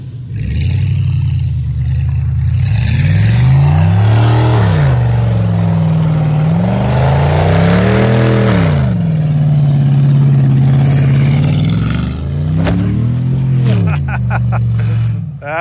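A car engine revs and surges repeatedly during drifting, with strong rising and falling pitch sweeps over a steady low drone, loud and close throughout, with a few sharp transient bursts near the end.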